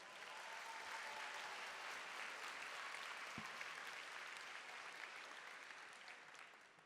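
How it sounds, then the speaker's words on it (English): Audience at a graduation ceremony applauding Vice Mayor Kearney, a steady, even roar of many hands clapping that holds throughout and tapers slightly at the end, with one low thump midway. "Let's give her another round of applause."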